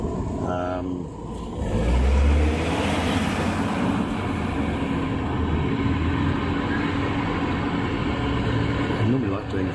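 Passing street traffic in Malmesbury, UK, rumbles loudly and continuously close by, with a heavier vehicle swelling past early on, while a person talks intermittently over the noise.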